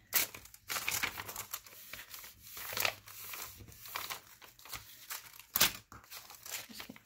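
Paper being folded into an envelope pocket for a handmade journal, with several crisp crinkling bursts and soft creasing rustles close by, no talking.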